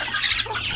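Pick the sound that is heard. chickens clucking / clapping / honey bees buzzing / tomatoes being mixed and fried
chickens clucking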